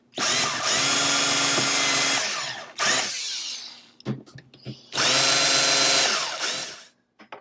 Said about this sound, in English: so now I'm going to do my pilot holes again